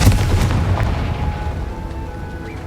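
Confringo fire spell explosion in Hogwarts Legacy, a deep booming blast at the start with crackling debris that rumbles and fades over about two seconds, heard alone without talk.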